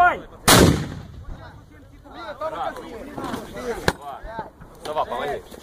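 A single booming artillery shot blasts out near the start, followed by shouting voices and a brief sharp crack later amid the commotion.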